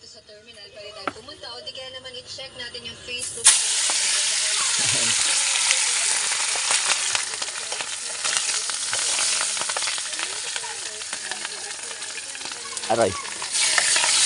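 Fish and shrimp sizzle loudly in hot oil, a steady dense frying hiss that starts abruptly after a few quiet seconds and continues with stirring noises, with a person speaking briefly.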